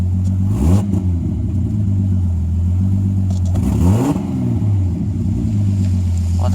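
A turbocharged BMW E46 with an M52B28TU engine, reported to stall, smoke and knock, idles with a loud rough burble and surges in two quick full-throttle revs that rise and fall, close by.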